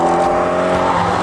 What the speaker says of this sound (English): it produces this car's exotic exhaust snarl that's unlike anything ever heard from